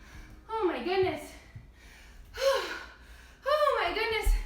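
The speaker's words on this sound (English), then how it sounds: "I am breathing super hard." Heavy, breathy panting in three loud bursts with short pauses between, an adult gasping for air after energetic kids yoga shaking exercises, close and voiced like exaggerated sighs.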